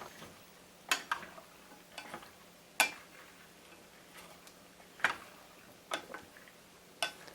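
Food being stirred in a cooking pot after a cup of water is added, giving scattered sharp scraping and tapping knocks of a utensil against the pot, spaced irregularly over a low steady background with no talk.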